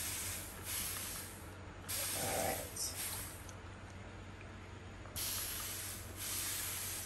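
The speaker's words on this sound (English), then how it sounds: "So instead of pouring it over it where it's not evenly distributed, I'm gonna spray it with a little red label wine" A small hand mister sprays red label wine and white rum onto a Jamaican fruit cake in several separate hissing bursts of a second or more each, close and fairly loud, with quiet pauses between.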